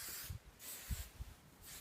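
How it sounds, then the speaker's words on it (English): A hair shine spray hisses onto a horse's plaits in three short, close bursts separated by brief pauses. "So just spray a little bit"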